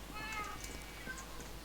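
A cat meows in a video game, a short, faint mewing over a steady background hum.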